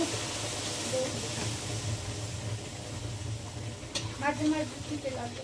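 Food sizzles and hisses steadily in a hot pan, with a voice speaking briefly near the end.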